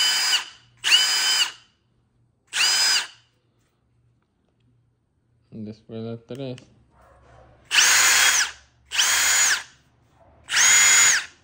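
Milwaukee impact driver running in separate loud bursts, three short ones at first and three longer ones at the end, with a brief spoken comment in between.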